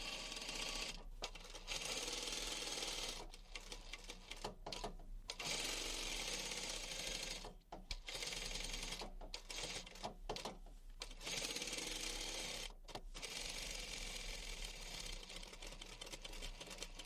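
A sewing machine stitches a zip onto a box cushion cover in runs of steady, rapid mechanical chatter, broken by short pauses where the fabric is adjusted, ending with a brief back stitch.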